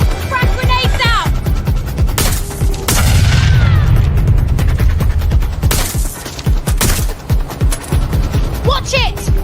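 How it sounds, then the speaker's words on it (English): Frag grenades and gunfire in the PS5 game Watch Dogs: Legion, with rapid bursts of automatic fire and heavy explosion booms, loud and close, with shouted voices over the combat. "Frag grenades out!"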